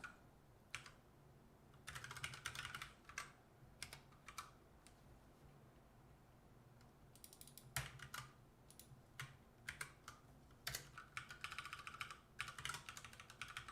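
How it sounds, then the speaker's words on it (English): Typing on a computer keyboard, likely a Raspberry Pi 400 while entering Wi-Fi settings: bursts of quick, close key clicks separated by short pauses, with a steady low hum underneath and no talking. "or typing from the manual, as it were."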